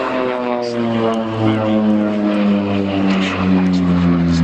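Bronco propeller aircraft at the Waddington 2014 air show flying display: a loud, steady twin-engine propeller drone with a strong harmonic hum, swelling slightly as the plane passes nearby.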